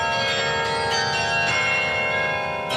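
Carillon bells ringing in a sustained wash of overlapping metallic tones, loud and close, with no talk.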